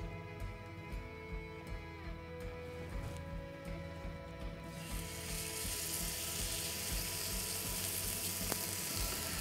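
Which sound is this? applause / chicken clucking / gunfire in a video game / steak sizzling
steak sizzling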